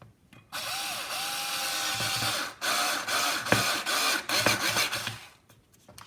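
A power screwdriver drives screws to fasten the corner piece of an under-cupboard kitchen worktop light, several loud whirring bursts of motor noise starting and stopping close up, with no talk.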